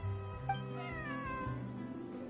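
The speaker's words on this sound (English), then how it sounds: "This is my friend's cat." A cat in the video game Genshin Impact gives a drawn-out, wavering meow over soft background game music, clear and fairly close.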